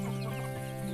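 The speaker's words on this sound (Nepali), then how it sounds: "यही हो भाले पोथी, यही मात्र छन् अहिले" Roosters and hens on a small farm cluck and murmur close by in a continuous, busy chorus, with a few sharper calls rising above the low, steady clucking.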